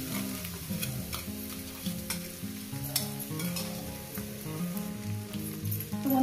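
Cauliflower frying in oil with garlic, ginger and green chilli, a constant close sizzle and crackle with spatula stirring and small taps against the pan, no speech.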